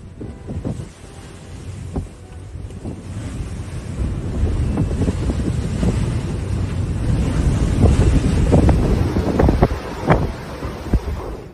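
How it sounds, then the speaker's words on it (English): Storm Arwen gales sweeping the northern United Kingdom, a steady roar of strong wind with surging gusts buffeting the microphone, growing louder through the middle and staying heavy to the end, with no voices. "Storm Arwen brought snow, ice and wind gusts of almost 160 km per hour."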